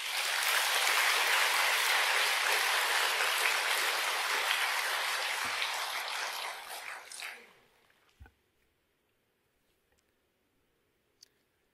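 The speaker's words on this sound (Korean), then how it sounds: "서로서로 찬탄의 박수를 한번 칩시다" A congregation at a Buddhist Sunday service at Donghwasa temple applauds in a dense, loud burst of clapping that holds for several seconds, then thins and fades into near silence with a few faint knocks.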